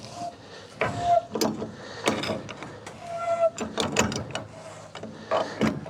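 A wrench ratchets against a large fitting while someone works it loose from a pump, giving several metallic clicks and clunks in bursts, close and clear, with some scraping between strokes.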